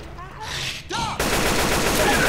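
Gunfire in the video game Left 4 Dead 2, a dense rapid burst of shots that starts partway through and continues to the end, loud and close, with voices shouting over it.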